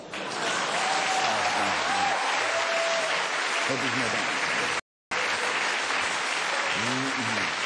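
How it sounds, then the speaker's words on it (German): An audience at the Bavarian cabaret award show claps steadily, dense applause filling the room with a brief cut in the middle; a voice speaks over it. "Reicht das oder auch noch Applaus?"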